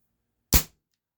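A single sharp shot from a Barra 1858 Cowboy CO2 BB pistol, one loud close crack with a quick hissing decay, surrounded by silence.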